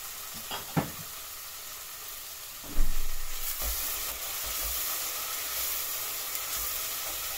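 Pepper paste and tomato paste fry in a pan with a steady hiss and sizzle, marked by a few stirring clicks early on and a sharp surge of sizzling about three seconds in that then settles into a continuous crackle.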